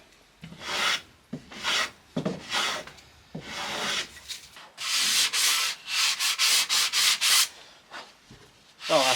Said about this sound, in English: Well now, planing, planing,